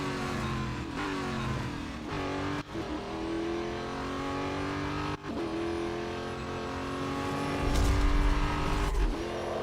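A race car engine in the Real Racing 3 video game roars steadily and loudly, its pitch climbing and dropping through gear shifts with a couple of sharp breaks, ending in a louder low rumble.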